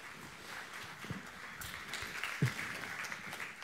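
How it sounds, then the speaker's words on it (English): A church congregation applauds for Michael, a soft, steady spatter of clapping heard at a distance, fairly faint with a few sharper claps standing out. "give Michael a big round of applause"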